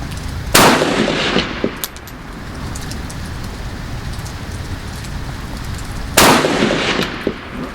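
Two loud, sharp rifle shots from a bush gun fired outdoors, about six seconds apart, each followed by a brief echoing tail over steady background noise, with no talking.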